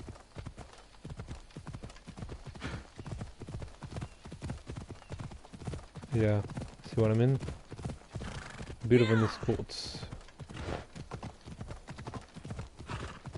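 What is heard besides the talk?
horse hooves clopping, from a video game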